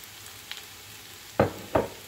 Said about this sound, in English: So next I'm going to be throwing in the rice.